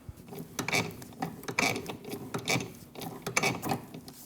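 A wrench turns the nut off a rear sway bar link on a 2012-2016 Honda CR-V, giving repeated close ratcheting clicks in short rhythmic bursts, about one per second.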